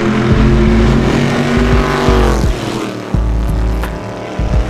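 Corvette GT race car fitted with paddle shift, running at Road Atlanta: a loud, close engine roar with rapid upshifts and sharp gear-change cuts, the pitch climbing and dropping as the car accelerates past.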